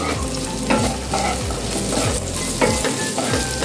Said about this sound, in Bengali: এগুলোকে হালকা করে একটুখানি ভেজে নিতে হবে।